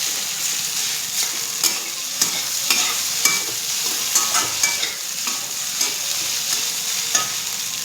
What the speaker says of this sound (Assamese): তিতা তেলৰ ভাজি।